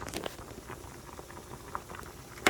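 A pot of seasoned food simmers on a stovetop with heat turned low, bubbling and popping in a steady irregular patter, close and fairly quiet, with a sharper clink near the end.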